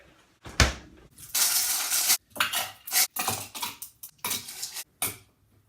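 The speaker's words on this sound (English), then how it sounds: "fill the shaker with ice and shake vigorously" Ice cubes rattle hard inside a cocktail shaker, shaken vigorously in uneven bursts of sharp clattering separated by short pauses, close up and loud.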